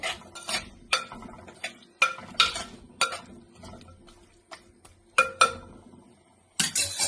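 Drumsticks and shrimp stirred in a cooking pot for a shrimp drumstick curry, giving a series of distinct metallic scrapes and clinks that come in irregular bursts, close by, with short quiet gaps between them.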